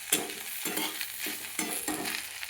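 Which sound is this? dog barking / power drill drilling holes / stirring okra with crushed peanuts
stirring okra with crushed peanuts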